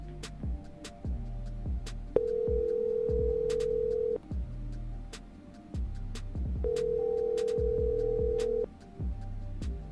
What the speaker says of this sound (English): So let me try to make an outbound call.